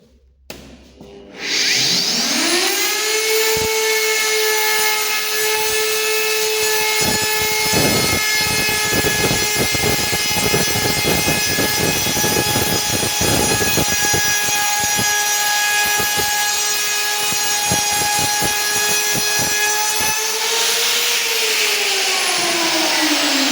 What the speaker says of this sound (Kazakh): осы фрезермен алып шығамыз